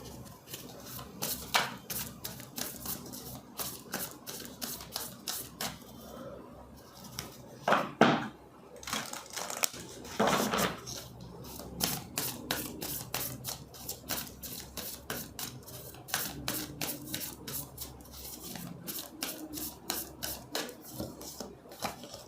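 Tarot cards being shuffled, handled and drawn during a reading, giving close rustling, rubbing and flicking sounds in uneven bursts, with occasional sharper card snaps.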